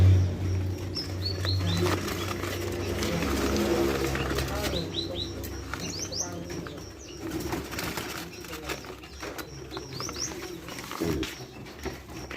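Songbirds chirp and whistle repeatedly among pigeons and wing flaps at an Indonesian bird market, with short rising calls scattered throughout over a busy, noisy background and steady market bustle.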